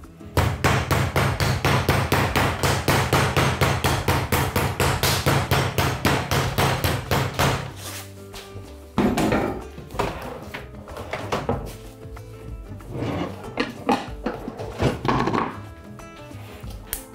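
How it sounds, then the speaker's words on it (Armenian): A wooden mallet pounds a piece of beef in a rapid, steady run of loud close thuds for about eight seconds, then pauses and resumes with scattered heavier blows and clatter. "Երբ փայտի մուրճով թակում ենք մսակտորը"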